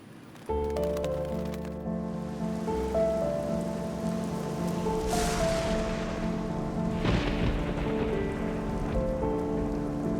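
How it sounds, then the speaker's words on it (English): Steady rain pours down over city buildings, a dense continuous hiss of drops on surfaces with a loud burst midway; heavy downpour under a tonal musical background, no talk. "It rains, sometimes too much."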